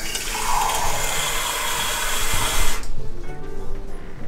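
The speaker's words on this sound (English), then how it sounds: "Then we're going to take another cup of warm water." Warm water pours steadily from a cup into barley and ale bread dough, a loud continuous splashing rush that stops abruptly near the end, leaving a faint background hiss.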